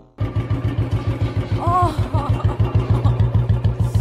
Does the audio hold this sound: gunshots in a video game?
no